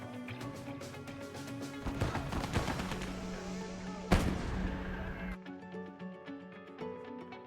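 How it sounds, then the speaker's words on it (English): Machine-gun fire from an MG34 in the video game Gates of Hell: dense, loud bursts of automatic rounds crackling and thudding amid a battle din, with a heavy blast near the middle, continuous throughout. "What do they have, a MG34 here?"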